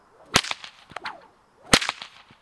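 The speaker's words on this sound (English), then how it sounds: "Some examples of whip cracks that are based on the cattleman's crack would be first just the cattleman's crack" A bullwhip snaps twice in the overhand cattleman's style, two sharp, loud cracks about a second and a half apart, each trailed by a short whoosh and faint echoes, with no talking.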